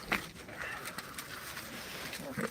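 Soft pigeon cooing in a quiet space, low murmuring calls repeating a few times, with faint background noise.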